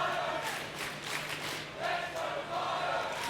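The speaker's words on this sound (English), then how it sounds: "Crowd trying to cheer on Bravado," Crowd at the Telkom VS Gaming Masters Season 7 esports grand final between Nixuh and Bravado, cheering and chanting in a steady, fairly loud wash with swelling bursts of voices.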